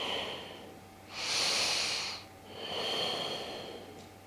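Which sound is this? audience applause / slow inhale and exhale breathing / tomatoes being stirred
slow inhale and exhale breathing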